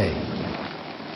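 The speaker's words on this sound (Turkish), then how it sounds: "yeni mega kıtada yağmur bir ay boyunca kesilmeden yağıyor" Heavy rain pours in a dense, steady roar with no break, a brief burst of loud falling water.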